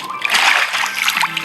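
Water splashes and sloshes inside the Minecraft video game, a dense, continuous spattering burst lasting about a second and a half, close and fairly loud, with no talking.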